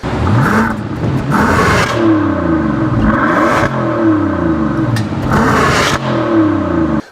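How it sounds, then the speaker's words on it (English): A 2014 Bentley Flying Spur W12 sedan accelerates hard, its engine loud and close, revving up in repeated rising sweeps with brief breaks between gear changes. "It's unbelievable how fast this car will accelerate from 0 to 60."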